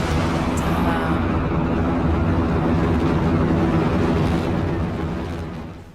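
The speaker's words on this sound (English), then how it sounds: "Go for main engine start." Rocket main engines fire in a continuous, heavy, broadband roar that stays loud and steady throughout, rumbling low and tapering off only at the very end.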